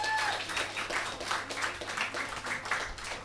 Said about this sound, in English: can we give a round of applause for those points?